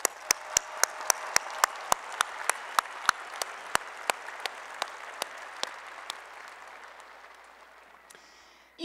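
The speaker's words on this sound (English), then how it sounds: "Let's give all of them a round of applause." At a university spring commencement ceremony, the audience applauds the graduates: a broad, steady wash of clapping from a large hall, with sharp individual claps standing out in a regular rhythm before the sound gradually thins and fades.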